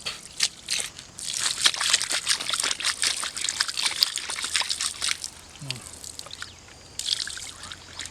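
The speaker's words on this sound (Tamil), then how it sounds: "நல்லா ஊத்து" Oil trickles and splashes steadily for several seconds, close by, during an outdoor fish fry, with a brief pause before the pouring resumes.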